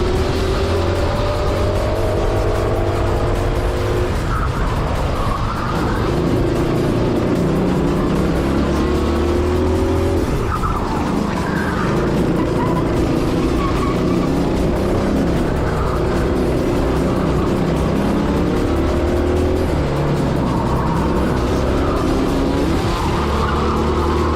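A Prokart racing kart engine screams through a fast lap, its pitch rising and falling through gear-like sweeps as it brakes and accelerates, with occasional tire squeal, loud and continuous with no talking.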